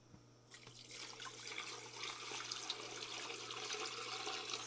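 Clean purified water pours steadily over a rooster for bone broth, a continuous close splashing and gurgling stream that starts abruptly and runs alone without speech.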